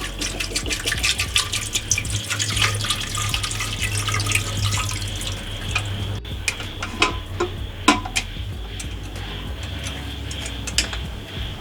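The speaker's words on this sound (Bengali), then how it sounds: "এবার আমি বয়েল হওয়ার জন্য প্রেসার কুকারে দিয়ে দেবো। দিয়ে দেব জল" Water splashes and trickles steadily into a pressure cooker holding potatoes set to boil, with small clinks and drips in a kitchen and no talking.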